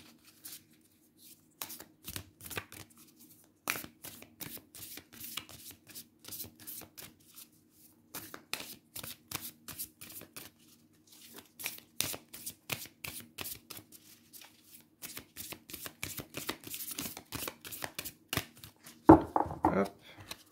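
Tarot cards shuffled and handled by hand, a long run of quick, crisp riffling and flicking bursts with short pauses, near and moderately quiet, ending in a louder rustle of cards being set down.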